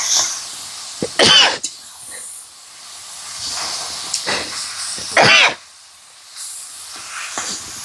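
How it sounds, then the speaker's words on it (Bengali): Two sharp, loud sneezes burst out close by in a home kitchen, with softer breathy hiss and faint movement between them and no talk. "বাবা হাঁচি করে দিলে তুমি।"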